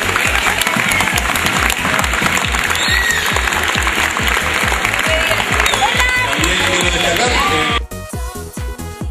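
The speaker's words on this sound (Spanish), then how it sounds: "quería que nos demos todos nosotros un aplauso por estar." A crowd at a youth roller hockey tournament for under-14 and under-16 teams applauds loudly and steadily for about eight seconds, then the clapping cuts off abruptly.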